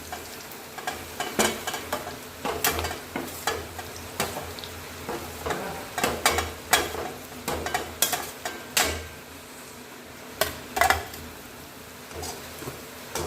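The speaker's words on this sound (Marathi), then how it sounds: "हे बघ शेंगदाणे आपले चांगले परतले" Peanuts being stir-fried with green chillies in a pan for sabudana khichdi, with a soft background sizzle broken by repeated scraping and clinking strokes of a spoon against the pan.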